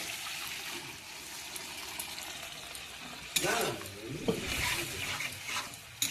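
Boiled tarka lentils are tipped into a pan of frying masala, a steady sizzle swelling into a louder gush and hiss of liquid hitting hot oil, with stirring scrapes and bubbling close by.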